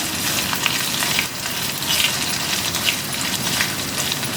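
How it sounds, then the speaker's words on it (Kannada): Crushed garlic fries in oil with coconut while making poha chivda, giving a dense, steady, close sizzle that stays even throughout with small bubbling crackles. No one speaks. "ಅದನ್ನ ಚೆನ್ನಾಗಿ ಕೆಂಪಾಗೋವರೆಗೂ ಫ್ರೈ ಮಾಡ್ಕೊಳ್ಳೋಣ ಬೆಳ್ಳುಳ್ಳಿನ"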